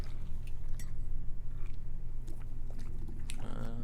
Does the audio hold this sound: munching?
yes